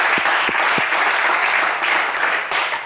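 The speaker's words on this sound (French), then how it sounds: "Allez, des applaudissements pour Jean-Baptiste." Studio audience on a French TV quiz show giving loud, dense applause for a contestant, a full, steady burst of clapping lasting about three seconds.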